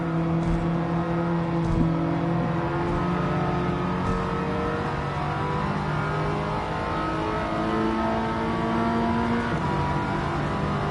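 Loud and close, a naturally aspirated race car engine with no turbo or supercharger revs and drones steadily in a racing video game, shifting through sustained pitches across several gear changes with no voices.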